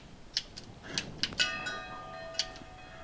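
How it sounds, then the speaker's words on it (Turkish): A bell rings in the video game Brothers: A Tale of Two Sons, struck several times in an uneven sequence with bright metallic tones that hum and fade over a quiet background, with no talking. "Bu ne burada? Çan mı?"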